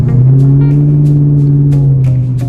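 A Camaro ZL1 idles with one exhaust pipe hanging loose and open, bypassing the muffler, making a loud, steady, deep rumble close by with a few sharp pops and blips over it.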